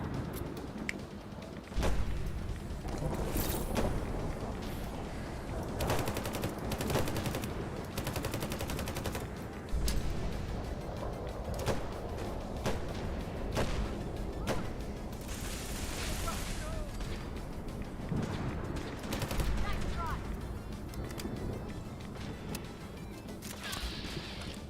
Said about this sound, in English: Switch over to the AK.